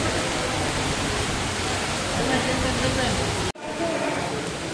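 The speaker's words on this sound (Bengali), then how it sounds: "এত বৃষ্টি, পুরো ভিজে গেছে, যাচ্ছে তাই অবস্থা, ভীষণ বৃষ্টি হচ্ছে।" Heavy rain pours at the Nalhati temple, a dense, steady roar of downpour close by that continues almost unbroken apart from one brief dropout.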